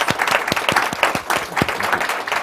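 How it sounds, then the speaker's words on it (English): Audience clapping for a departing speaker at a food systems and technology event, steady applause with distinct individual claps standing out near the front. "Let's give him a round of applause."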